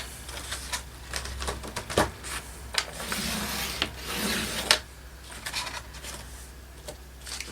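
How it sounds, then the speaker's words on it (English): An electronic cutting machine's blade slices through card stock in a series of raspy, scraping passes with irregular mechanical bursts and a steady low motor hum, fairly close and without voices. "I'm going to cut these at 7, and I don't think my cutting blade's going to take these"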